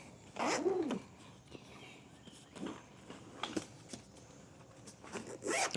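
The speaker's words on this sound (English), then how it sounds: "Waterproof zipper." A waterproof zipper on a drone carrying bag is pulled in several quick rasping strokes, close and fairly quiet, with soft handling noises between them.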